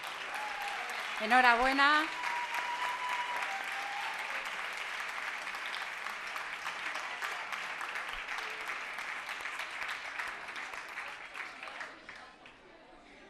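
Sustained applause from the audience at the 2017 Camargo gala, a steady wash of clapping lasting several seconds; a voice speaks briefly at the start, then the clapping carries on alone before fading out.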